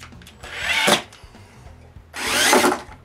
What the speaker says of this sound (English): I drill and screw four screws to hold the T-bolt in place.